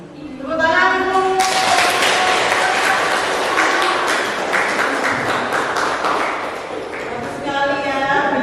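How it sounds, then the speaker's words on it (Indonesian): A secondary school class applauds after a group's presentation during a career guidance session, a loud, sustained burst of many hands clapping that tapers off. A voice speaks before and after it. "Tepuk tangan dulu."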